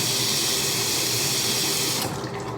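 Tap water runs steadily from a faucet to wet paddle brushes, a loud continuous hissing stream that drops in level near the end as the flow shifts.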